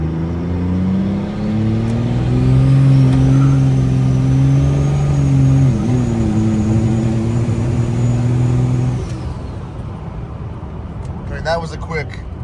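A race truck with a compound turbo setup pulls through its gears at half throttle, its engine droning loudly with rising pitch and a brief dip at a shift. The engine then fades to a rumble, and speech comes in at the end.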